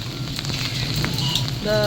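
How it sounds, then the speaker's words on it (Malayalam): Heavy cyclone rain pours down in Chennai in a dense, crackling wash of drops, loud and constant, with a brief voice near the end. "ഇവിടെ ചെന്നൈയിലെ സൈക്ലോൺ മഴ"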